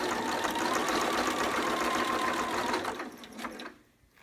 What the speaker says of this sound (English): I'm going to take out the couple pins here and just sew along right along.